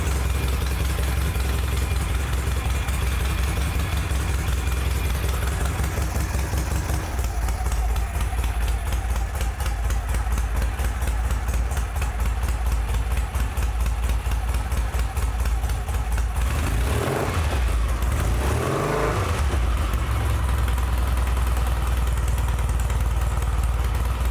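A Norton motorcycle engine with heavy compression runs steadily at idle, a loud, close, continuous low thrum with a couple of brief revs near the end.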